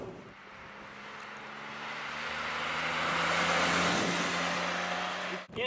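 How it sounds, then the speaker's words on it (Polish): Three-cylinder 1.2-litre engine of a Mitsubishi Space Star, a steady low growl with a droning hum and broadband road and wind noise that swells and eases over several seconds, heard from inside the car with no talking. "Ma typowy dla 3-cylindrowego silnika słyszalny wyraźnie warkot."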